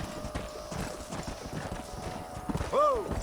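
Horse hooves clip-clop in a steady trotting rhythm in Red Dead Redemption 2, close and clear under a voice, ending with a short whinny.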